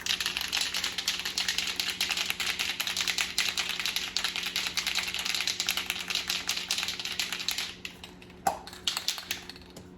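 Glossy black protective aerosol paint sprayed onto Nissan 350z parts makes a steady, close hiss for about eight seconds, then cuts off and is followed by a few light taps.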